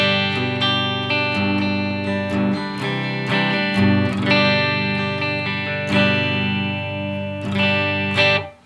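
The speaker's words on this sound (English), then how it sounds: "See what that light reverb sounds like in comparison." An electric guitar played through a Blackstar Amped 3 with light reverb rings out in sustained, distorted chords and notes, loud and close, with no talking.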